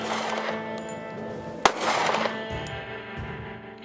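Gunshots striking steel gong targets hung on a portable 2x4 target stand at an outdoor range, one sharp crack with a ringing metallic tone that decays over the following seconds.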